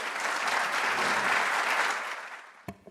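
Applause from a seminar audience welcomes speaker Evelyn Matthei, a full, steady burst of clapping that tapers off, followed by a few brief sounds near the end.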